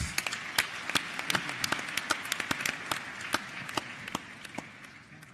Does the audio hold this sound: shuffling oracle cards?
no